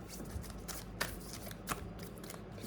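Tarot cards are shuffled softly and close by in a quiet room, with repeated riffling and sharp flicks as cards slide and are drawn.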